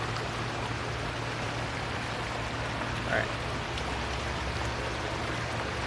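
Balboa Creek near Van Nuys Airport, normally almost dry, rushes quickly past with a steady, broadband watery hiss. The flow stays even and close throughout, and a brief spoken remark sits over it.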